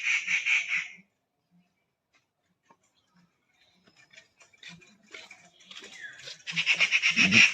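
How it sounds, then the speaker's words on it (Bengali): A loud bird call rings out briefly, then near silence with scattered clicks, before rapid repeated chirping calls build up close by. "কি একটা পাখি যে ডাকতেছে।"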